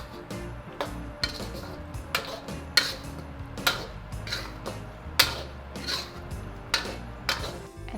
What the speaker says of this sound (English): Finally, give that a good mix.